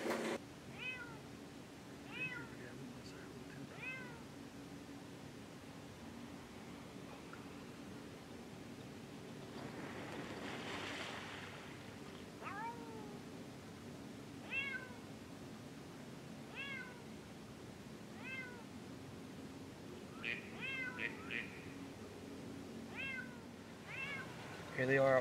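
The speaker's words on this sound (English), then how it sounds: "you're gonna hear meowing in the background" Barn cat meowing repeatedly outdoors near a duck hole on a dike, a series of clear, moderately distant meows spread across the clip over a steady background hiss of wind or water.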